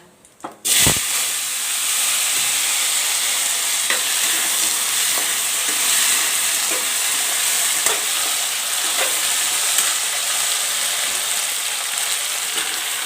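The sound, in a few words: frying potatoes and bell peppers with cumin in oil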